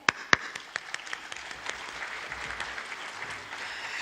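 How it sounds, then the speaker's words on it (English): An audience at a parliamentary regional seminar in Pakistan claps together, a few sharp early claps swelling into sustained, moderately loud applause from a room full of people. "Please join me on behalf of the Parliament of Pakistan in putting our hands together and applauding the presence of all."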